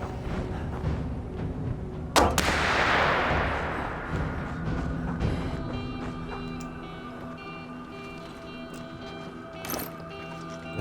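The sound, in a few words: sniper gunfire in video game This War of Mine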